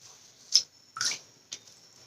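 Wet synthetic hair being squeezed by hand to press out excess water, giving three soft, close squishy splashes of dripping water spaced about half a second apart in an otherwise quiet room.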